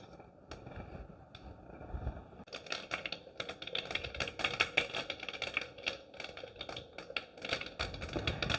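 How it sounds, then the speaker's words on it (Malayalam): Mustard seeds hit hot coconut oil in a pan and begin spluttering, a dense run of sharp crackling pops that starts sparse and quickly turns continuous, fairly close and moderately loud. "ചൂടായ വെളിച്ചെണ്ണയിലേക്ക് കടുക് ചേർക്കാം."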